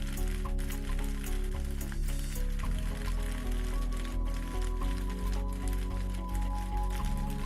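Red-sauce tomato pasta is stirred and mixed in a pan, giving close, wet squishing and scraping sounds in an uneven rhythm over a low background hum.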